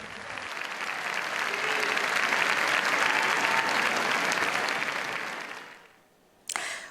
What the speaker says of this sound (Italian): Il pubblico, affascinato ancora una volta da quest'opera immortale, si è lasciato andare in un lungo e interminabile applauso.